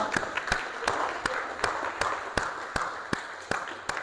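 Church congregation clapping in a steady rhythmic beat, evenly spaced sharp claps about twice a second over a soft murmur, fairly faint and distant.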